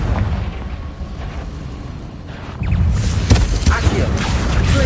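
Confringo blasting spell in a Hogwarts video game, a deep boom that swells partway through into a sustained rumbling explosion with sharp crackling bursts on top.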